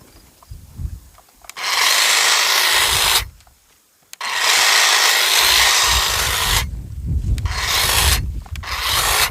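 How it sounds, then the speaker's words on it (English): Tree branches being trimmed with a cutting tool: loud, sustained rasping bursts of several seconds each, stopping and restarting with brief quiet gaps and rustling between them. "I'm going to be doing some trimming on these trees through this little area"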